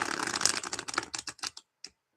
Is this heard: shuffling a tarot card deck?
yes